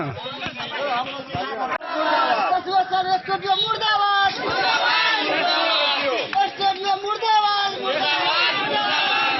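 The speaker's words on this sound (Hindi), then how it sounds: "आक्रोशित लोगों ने गजेंद्र यादव के नेतृत्व में सड़क जाम कर प्रदर्शन किया" Angry protesters blocking a road in Madhubani over a ration dealer chant slogans in loud, rhythmic unison, with shouting and crowd babble close by throughout.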